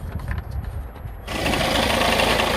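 Peugeot 206 2.0 HDI diesel engine turning over and settling into idle after an oil and filter change, with a brief crank that gives way to a steady, fairly loud clattering hum.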